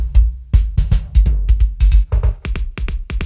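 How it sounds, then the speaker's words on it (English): Tight electronic drum sounds played on a Roland TD-30 electronic drum kit: loud, punchy, closely spaced hits in a quick, uneven pattern with deep thumps and sharp snappy strikes, heard alone without talking. "So you can find some really tight sounds, like electronic sounds like this."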